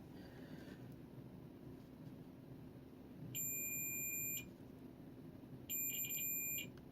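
Two steady electronic beeps from a multimeter continuity test on a water-damaged Game Boy Advance SP, the first lasting about a second and the second slightly louder, over a low background hum.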